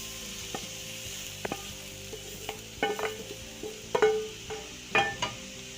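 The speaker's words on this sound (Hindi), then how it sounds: "अब हम अच्छी तरह से इसमें मिक्स कर देंगे बंद गोभी में अपना मटन का कीमा।" Minced mutton being stirred into cabbage in a wok, with repeated spatula scrapes and clinks over a steady low sizzle of frying, close and fairly quiet.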